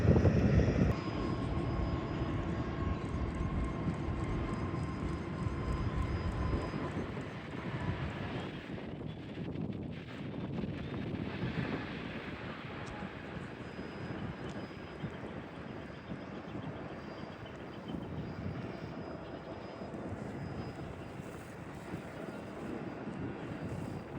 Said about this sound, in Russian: Airbus A320 авиакомпании Lung Air, который прилетел из Сианя